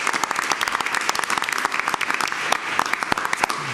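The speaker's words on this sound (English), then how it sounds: "Let's give a round of applause for those 3 schools." Audience at a school board meeting applauds three schools, a brisk, close round of clapping with sharp individual claps throughout and no talk over it.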